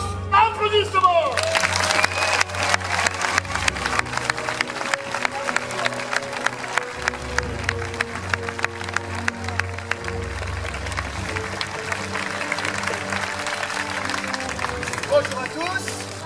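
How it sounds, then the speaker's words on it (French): Outdoor audience in the ancient theatre of Arles applauding gladiator combatants after a staged fight, sustained clapping and some cheering from a crowd, with an amplified announcer talking over it. "Les gladiateurs de Alta qui méritent des immenses applaudissements"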